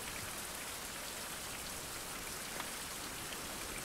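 Steady, dense rainfall from a survival video game hisses evenly and closely throughout, with no voices or other sounds over it.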